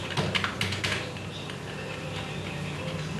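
Keys clatter on a computer keyboard as a shortcut is pressed and text is entered, a close run of quick irregular taps and clicks over steady background hiss.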